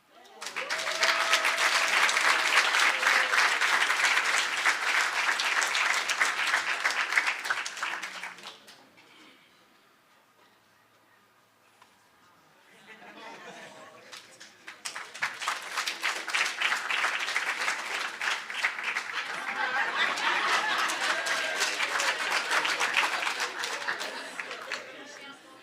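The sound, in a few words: audience applause at research awards ceremony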